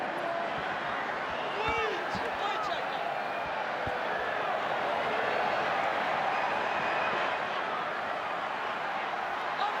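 A packed stadium crowd at a Kangaroos versus New Zealand Kiwis rugby league match in the 2023 Pacific Championships keeps up a loud, steady roar throughout, with a commentator talking over it.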